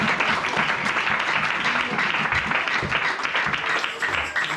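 A church congregation applauds in sustained, dense clapping that carries on evenly throughout, with a voice faintly audible underneath.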